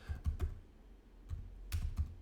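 Quiet, close typing on a computer keyboard: a few quick key clicks, a short pause, then another short burst of taps.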